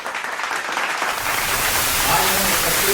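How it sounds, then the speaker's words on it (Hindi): Applause at a product launch event for a fertilizer company, building from scattered claps into a loud, dense crowd roar of clapping that stays strong to the end, with faint voices mixed in. "अपने लिए एक जोरदार ताली दें"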